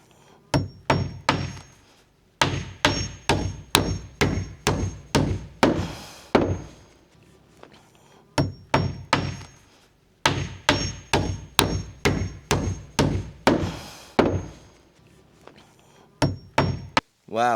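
Bursts of rapid hammer blows drive nails into plywood on a building site on a hillside, sharp metallic strikes in quick runs separated by short pauses, close and loud.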